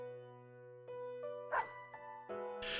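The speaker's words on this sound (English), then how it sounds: "Snowy barks as if in answer." A dog in the fighting video game Persona 4 Arena Ultimax gives a couple of short, bright yips and barks over a sustained synthesized musical background.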